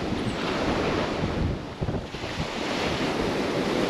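Ocean surf washes onto a beach at Key West, a constant, loud rushing roar of breaking waves heavily mixed with wind buffeting the microphone, with no voices heard.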